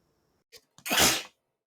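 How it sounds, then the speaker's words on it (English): A single close sneeze from a woman, with a short intake of breath and then one sharp, breathy burst, alone in a quiet room. "Sorry, didn't mean to sneeze yet again."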